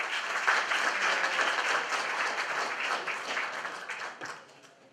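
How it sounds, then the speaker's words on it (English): Steady applause from an audience at an Azerbaijan presentation night in South Korea, a dense patter of many hands clapping that holds for several seconds and then tapers off. "Please give him a round of applause."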